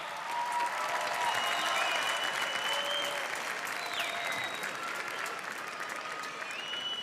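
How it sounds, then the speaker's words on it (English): High school graduates at a commencement ceremony give a round of applause to their families and teachers, a loud sustained crowd clapping with faint cheers and whistles mixed in. "show your appreciation with a round of applause for your family and for your teachers who got you here today"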